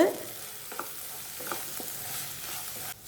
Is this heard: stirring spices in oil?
yes